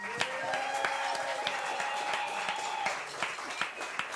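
An audience at a live big band show at Monks applauds the band leader with a crisp spatter of claps, while a voice and faint tones carry over the clapping.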